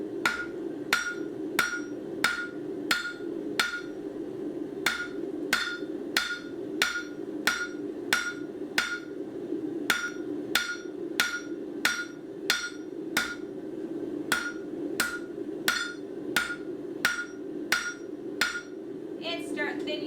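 A blacksmith hammers a thin metal vine on the horn of an anvil, the ringing strikes falling in a steady, brisk rhythm of about thirty close, clear blows with no talk.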